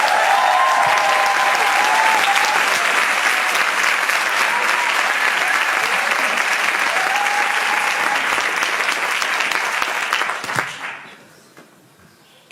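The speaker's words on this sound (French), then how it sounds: "Je vous demande d'applaudir comme il se doit mon camarade syndiqué, Marie Dara." Sustained, loud audience applause for a writer receiving a drama-text prize, steady and dense for about ten seconds before fading quickly into near silence.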